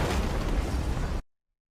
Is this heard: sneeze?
no